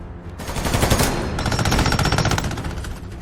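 Rapid automatic gunfire from a combat scene, a dense continuous burst of shots aimed at armored vehicles, loud and close, running without pause for a few seconds.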